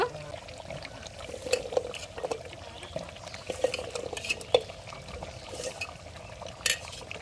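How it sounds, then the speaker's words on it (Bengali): Pumpkin pieces tipped into a pot of beef being cooked down, with soft stirring, scraping and clinks of a utensil against the pot recurring through the clip, close and fairly quiet, without talk. "এখন আমি এর মধ্যে কুমড়ো দিয়ে দিব"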